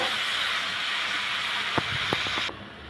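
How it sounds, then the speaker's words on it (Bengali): Water lily stems stir-fry in a pan with cooked-down spice paste, giving a loud, steady hiss and sizzle broken by a few stirring clinks before the sound cuts off. "এখন আমি দিয়ে দিব শাপলাগুলো মশলার সাথে ভালো করে মিশিয়ে নেব"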